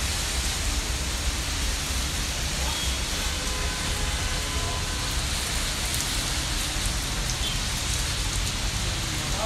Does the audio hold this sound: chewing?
no